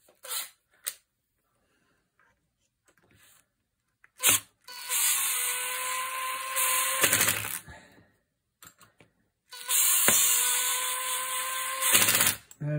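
Cordless drill driver driving screws into the stock of a Beretta 693 shotgun, two separate bursts of motor whine a few seconds long, each with a short rise at the end, separated by quiet gaps and small handling clicks.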